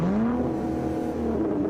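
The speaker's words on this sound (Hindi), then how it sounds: "अरे ये क्या, बुल्ली ने तो गाड़ी से प्लेग्यू डॉक्टर को ठोक दिया" A car in an animated horror game revs briefly as it drives into the plague doctor, a short close engine whine that climbs in pitch, heard alone.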